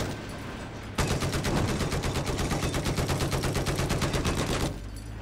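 Sustained automatic gunfire in a first-person shooter video game, a loud, steady rapid-fire burst of about four seconds standing alone with no talk over it.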